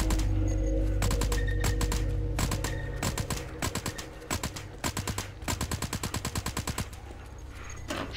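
Bursts of SMG fire in the VR zombie game Into The Dead, short rapid rattling volleys with brief gaps between them, close and sharp over a low rumbling background.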